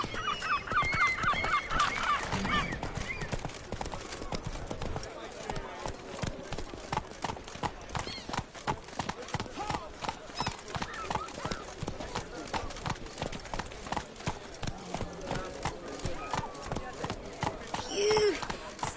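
A horse gallops in The Witcher 3 video game, its hooves beating a fast, continuous clip-clop rhythm through the whole stretch, with brief game sounds and talk mixed in.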